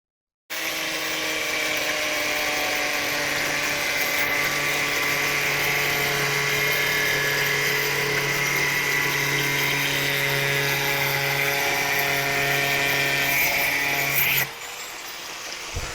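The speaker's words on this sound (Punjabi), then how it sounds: "ਹੁਣ ਆਪਾਂ ਜਿਹੜਾ 6 ਇੰਚ ਵਾਲਾ ਪੀਸ ਕੱਟਿਆ ਸੀ ਉਹਨੂੰ ਇਸ ਤਰ੍ਹਾਂ ਵਿਚਾਲੋ ਕੱਟਾਂਗੇ" A 6-inch piece of PVC pipe being cut through the middle by a power tool, a steady high whine that holds for about fourteen seconds before stopping abruptly, loud and close with no talking.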